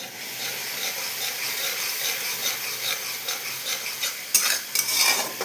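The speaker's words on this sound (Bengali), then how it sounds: "সুন্দর করে একটু মশলাটা কষিয়ে নেবো।" A spice paste for mustard-sauce pabda fish is stirred and fried in a pan, a steady close sizzle under scraping spatula strokes, with a few sharper clinks near the end.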